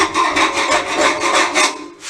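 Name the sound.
scraping old paint off a cheap radiator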